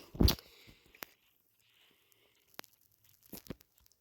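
A sharp tearing crunch opens, followed by a few faint clicks and a short cluster of soft crunchy sounds, like food being eaten in a game.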